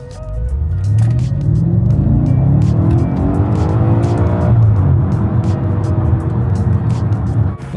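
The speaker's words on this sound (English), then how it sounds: "Pop it into manual mode. And we'll just do a little pull." A 2013 Audi RS5 in manual mode pulling hard, loud engine revs rising through the gears with a deep rumbling exhaust, up close and continuous, no one speaking.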